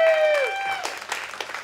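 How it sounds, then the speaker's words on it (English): Wedding guests applaud the bride and groom. After a brief voice at the start, scattered, moderately loud hand claps follow as the applause picks up. "Round of applause for our bride and groom."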